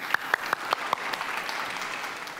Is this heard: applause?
yes